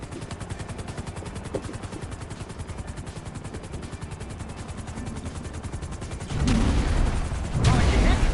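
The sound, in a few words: incoming aircraft and gunfire in a video game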